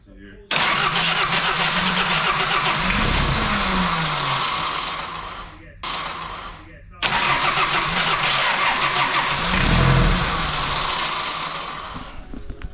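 A Ford Fox Body Mustang with a new starter cranks hard in long, loud whirring bursts that break off briefly and start again without the engine catching. People talk nearby.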